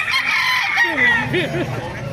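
A gamefowl rooster crows loudly close by, a drawn-out wavering call, with clucking and other fowl noises mixed in.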